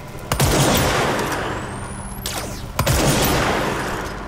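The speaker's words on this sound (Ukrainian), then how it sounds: "Ні, ми просто будемо стріляти по качечкам." Loud bursts of gunfire in the video game Control crackle over a heavy rumbling background, with two sharp volleys a couple of seconds apart.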